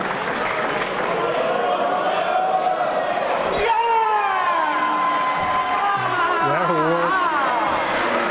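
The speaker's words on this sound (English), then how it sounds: "Dennis challenging the crowd now." A pool match crowd cheers and whoops loudly and steadily, with several voices rising and falling in long calls, while a commentator speaks briefly.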